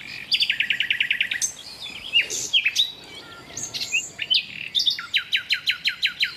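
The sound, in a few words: bird singing loudly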